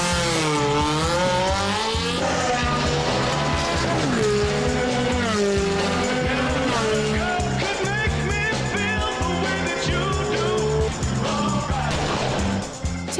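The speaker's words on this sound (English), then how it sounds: "Hit launch control for a fast getaway and wait for the call" A Ferrari 360 Challenge Stradale engine revs hard and repeatedly, with rising tones that climb and shift as the car launches and pulls away. The car is loud and close, with a busy, layered roar throughout.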